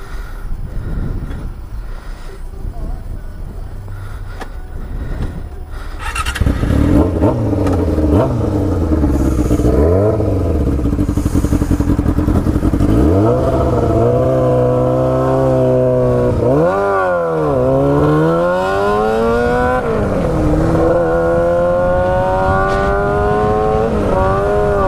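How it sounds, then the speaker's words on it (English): A motorcycle engine turns over and catches after a few seconds of quieter clatter, then idles loudly close by and is revved repeatedly in rising and falling surges. "so apparently you need to be in neutral to start the bike"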